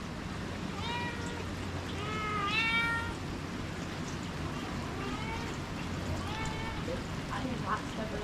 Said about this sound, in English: We have a scaredy cat.